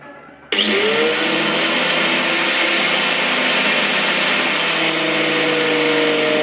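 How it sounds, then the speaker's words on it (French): A power sander switches on abruptly and runs at a loud, steady whining roar, close up, with no talking. "et puis après direct sur la ponceuse"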